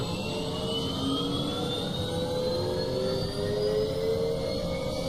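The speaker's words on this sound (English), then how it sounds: "if we look up, we should see a spinning main rotor" A helicopter's turbine engine runs with the main rotor spinning, a steady close whine whose pitch slowly climbs over a constant roar, with no talking.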